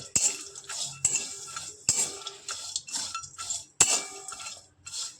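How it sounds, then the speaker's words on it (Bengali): Fried fish bone for fish-bait masala is pounded in a mortar and pestle, giving sharp, close clacks about once a second with gritty grinding and scraping between strikes. "হামল দিস্তাতে থেতো করে নেবেন"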